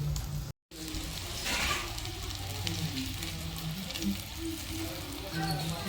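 Fish frying in oil in a pan at home, a steady soft sizzle throughout with faint crackles, underneath indistinct background talk.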